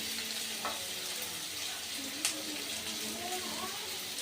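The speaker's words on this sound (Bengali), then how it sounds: "মশলার সাথে আলু আর বেগুন খুব ভালো করে কষে নিয়েছি।" Potatoes and eggplant sautéing with spices in a pan for a sea fish curry, a steady broadband sizzle with scraping stirs and a brief clatter midway, moderately close with no talk.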